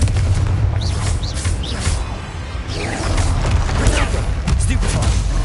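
A Confringo fire-blast in Hogwarts Legacy booms amid loud, chaotic spell combat, with deep rumbling impacts and whooshing effects while a voice is heard briefly over the fight.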